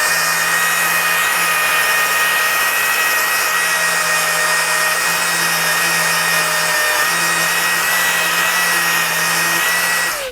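A power tool with a 120-grit abrasive polishes a knife blade, giving a loud, continuous high whine and grinding hiss at close range that holds steady throughout, with no talking.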